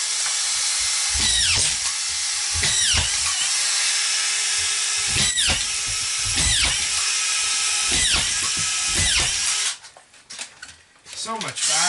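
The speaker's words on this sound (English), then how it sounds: "This is why these guns are so beautiful, because you don't have to hold the screws." A cordless screw gun drives screws on a construction job, with short whirring bursts repeating every second or so, loud and close, and a clattering stretch of handling noise near the end.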